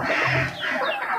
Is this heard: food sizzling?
no